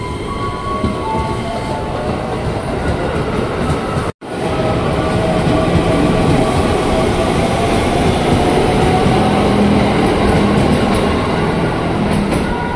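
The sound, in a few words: KRL commuter train passing Tebet station platform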